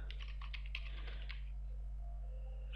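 Quick bursts of typing on a computer keyboard click close and crisp for about a second and a half, then fade to a faint steady electrical hum.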